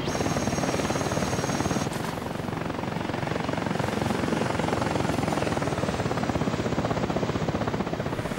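Rotor of an AH-64 Apache Longbow helicopter in the flight sim DCS World, a steady, loud, dense chopping roar throughout with a high whine over a sea setting, no talk.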